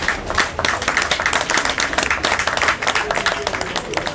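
An audience at a press conference claps steadily, a close, dense burst of applause from many hands that holds throughout with slight swells, alone without talk.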